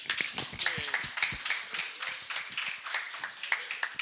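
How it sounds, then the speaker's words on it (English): Attendees at a Chicago mayoral forum on veterans affairs give themselves a round of applause. The sparse clapping from a modest group comes as irregular, separate claps rather than a dense roar, heard fairly near. "Let's give ourselves a round of applause."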